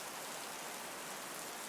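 Steady rain falling, a dense, even hiss of drops with no breaks and no voices over it.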